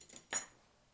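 A quick metallic clink of forks knocking together, one short sharp hit after some faint rattling, close by and then quiet, while testing ceramic glazes.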